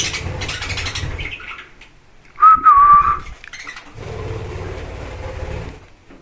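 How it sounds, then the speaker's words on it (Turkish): Pet budgies and cockatiels in a cage let out a brief, clear whistling chirp that rises above steady room noise and then fades. "Bu arada kuşlarımız da ötüyor."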